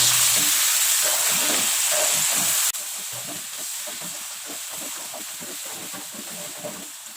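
A blended spice paste and shrimp stir-fry in a pan for Indonesian sambal, a loud dense sizzle that drops in level partway through, with rhythmic scraping of a utensil against the pan continuing steadily.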